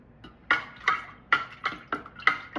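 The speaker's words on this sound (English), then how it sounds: "I'm gonna pick a clean wooden spoon and we're gonna stir it around" A wooden spoon stirs sugar in a container, making about six quick rhythmic knocks and scrapes close by, evenly spaced, with no voices.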